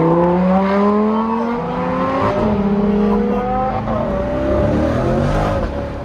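A sports car engine, a Lamborghini Gallardo Performante or Corvette C8, revs hard and climbs through gears, pitch rising in sweeps with quick shifts between, loud and close.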